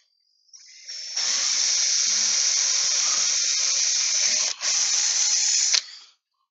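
A high-pitched power drill boring into scrap wood for a small birdhouse whines steadily for several seconds, briefly dips and resumes, then stops abruptly; close and fairly quiet.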